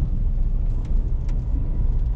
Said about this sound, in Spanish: Hay un carro allá.